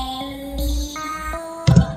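Synth notes play back in LMMS for a Friday Night Funkin' song: sustained tones step through a short phrase of a few notes, with a louder, buzzy burst near the end. Clear and upfront, with no talk over them.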